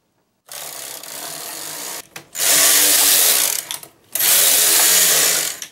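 A knitting machine carriage is pushed across the bed in long, loud rasping sweeps, each lasting about two seconds, separated by brief pauses with clicks and clacks.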